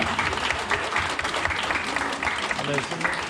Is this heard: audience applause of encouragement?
yes